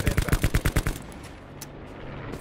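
Rapid automatic gunfire from a Black Ops 4 Blackout match, a burst of about eight to ten loud, evenly spaced shots in the first second, then fading into quiet ambient game noise with a couple of faint distant sounds.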